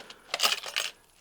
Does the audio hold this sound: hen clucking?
no